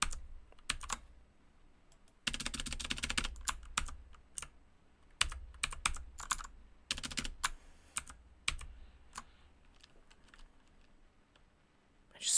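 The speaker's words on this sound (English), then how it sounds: "I just spam the keyboard to get it working." A computer keyboard is hammered in rapid bursts of dense, close-up key clatter, separated by scattered single clicks and short pauses.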